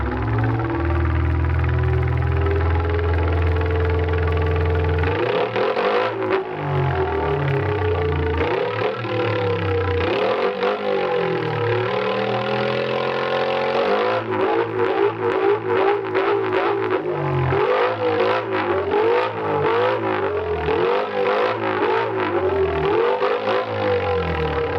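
A simulated multicylinder engine in an engine simulator revs continuously, its harsh, buzzy drone rising and falling through repeated throttle blips, loud and alone with no voices.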